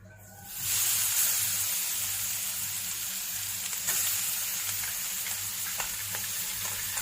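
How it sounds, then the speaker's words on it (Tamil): Carrots frying in ghee for carrot halwa, a steady broadband sizzle and hiss that swells in after a quiet first half-second and then holds evenly, with a few faint crackles over it. "இதே நெய்யிலே கேரட்டையும் நமக்கு கொஞ்சம் ஃப்ரை பண்ணி எடுக்கலாம்."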